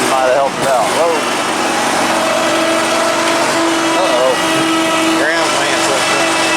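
A small engine runs steadily after starting during emergency repair and welding work, a continuous near drone with shifting tones while voices talk over it.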